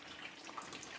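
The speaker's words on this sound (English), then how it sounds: "this one will be draining up all the excess water, draining out all the excess water" Steady trickling and splashing water, close and continuous, as excess water drains out of a freshly repotted houseplant's pot into a catch pot below.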